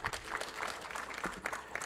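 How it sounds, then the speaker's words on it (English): An audience claps, a short burst of scattered applause from a modest crowd, with uneven overlapping hand claps. "Another round of applause for our panelists."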